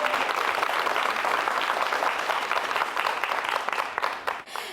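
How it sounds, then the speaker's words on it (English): Studio audience applause for the judges on a televised leadership competition show, a dense, steady round of clapping that fills the clip and tapers slightly at the very end. "A round of applause for our judges."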